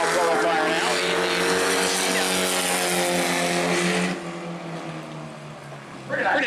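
A race car in Bomber-class qualifying at New Smyrna roars loudly past with a rising, harmonic engine note, then drops away near the end as another car's engine swells in. A commentator talks over the engine noise.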